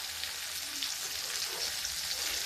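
Stuffed kundru (ivy gourd) frying in a small amount of oil: a steady, soft crackling sizzle, continuous and fairly faint, with no talking.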